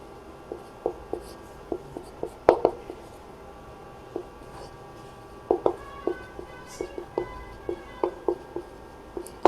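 Pen writing a handwritten maths integration solution, close-up scratchy strokes and sharp taps in irregular bursts, steady and fairly loud over quiet room tone.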